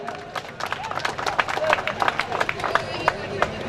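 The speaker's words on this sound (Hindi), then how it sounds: "जरा जोरदार तालियां हो जाए।" At a live qawwali and ghazal show, a crowd claps to welcome a performer. Dense, fairly close clapping runs for a few seconds with some crowd noise mixed in.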